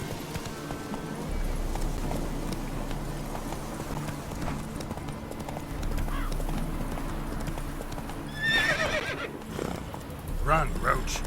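Roach the horse gallops with steady hoofbeats and lets out sharp neighs and whinnies near the end in The Witcher 3, with game ambience behind and voices speaking over it.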